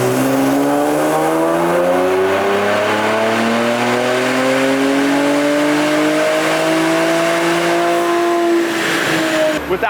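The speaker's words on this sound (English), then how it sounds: "Alrighty, here's JB4 Map 1 on a 2016 Q50." A 2016 Infiniti Q50 with the VR30 engine on a JB4 tune revs hard through a gear on a dyno, a loud, close engine note climbing steadily in pitch before cutting off sharply.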